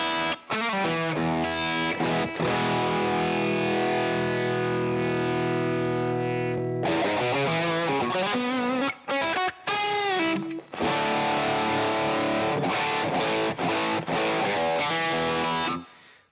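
Electric guitar runs through a Mjolnir overdrive pedal set to lower gain, giving a compressed, smoother overdriven tone as sustained chords ring out and then give way to choppier strums and riffs, loud and close with no talk.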